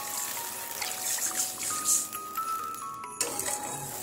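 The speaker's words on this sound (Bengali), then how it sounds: "দেব 1 বাটি নারকেলের দুধ" Coconut milk poured into a pan while cooking an eggplant dish, a soft continuous trickle and splash close by, with light metallic clinks toward the end.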